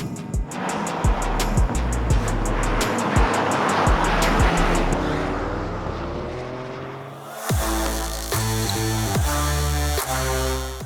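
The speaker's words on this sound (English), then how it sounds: "we do something called a Scandinavian flick or a pendulum turn" Toyota GR Corolla engine revving hard through a Scandinavian flick turn on dirt, loud rising and falling engine tones with gear-change steps and tire scrabble, then a sharp shift into a steadier, higher-pitched drive.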